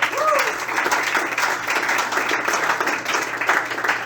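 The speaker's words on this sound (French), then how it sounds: "On peut prendre une grande main d'applaudissements pour remercier Anne-Claude." A crowd applauds with sustained, even clapping that fills the whole moment, fairly close and loud.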